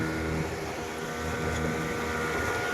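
Family motorboat heading out at sunrise toward mangrove forest in Puducherry, a loud steady engine drone with rushing water and wind noise, close and constant throughout.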